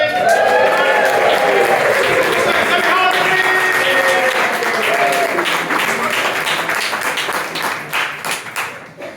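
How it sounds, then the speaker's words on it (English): An audience in a brewery taproom applauds loudly, a dense wash of clapping mixed with cheers and voices that holds steady and then thins into scattered claps at the end. "stop clapping!"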